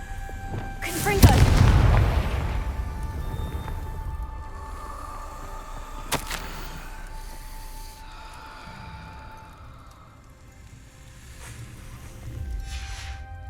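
A Confringo fire spell blasts in the video game Hogwarts Legacy, a single loud booming burst with a fiery rushing tail, followed by quieter ambient game sounds and a faint later thud.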